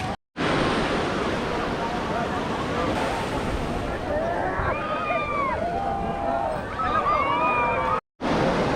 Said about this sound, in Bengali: দেখুন এদিকে কিন্তু ঢেউটা তুলনামূলকভাবে অনেক কম